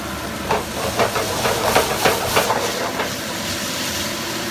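Finely chopped tomato hits frying garlic in a pan, setting off a loud hissing sizzle with rhythmic bursts of spatter that settle into a steady fry, no talking.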